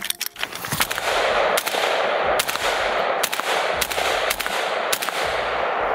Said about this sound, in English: Let's take this guy down range really quick. Let's go shoot it.